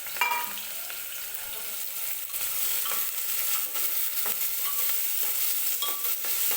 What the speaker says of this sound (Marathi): कांदा व्यवस्थित तेलामध्ये भाजून घ्यायचा आहे